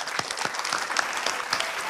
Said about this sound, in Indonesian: Boleh kita berikan tepuk tangan untuk Kang Dayak.